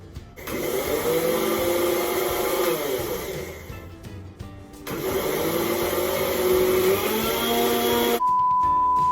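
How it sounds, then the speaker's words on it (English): An electric grinder whirs loudly as it grinds sugar into powdered sugar, running in two steady high-pitched bursts with a short break between them, then stopping abruptly. "we're going to put the sugar in the grinder and then grind it"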